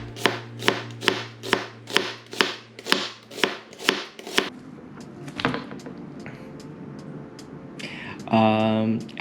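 A knife chops onions on a cutting board in a quick run of about ten sharp, evenly spaced strokes. Softer handling noises and a brief voice follow.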